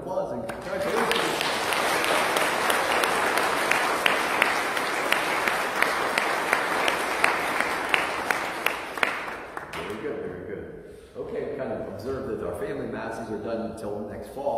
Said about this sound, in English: let's give our first communion kids a round of applause and congratulations